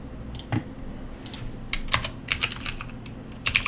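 Linux commands being typed on a computer keyboard: a quick run of crisp, close key clicks, sparse at first and then denser bursts of keystrokes, with no voices.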